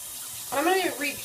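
A makeup brush is rinsed under a running tap, giving a steady, close hiss of flowing water, with a short vocal sound rising briefly over it partway through.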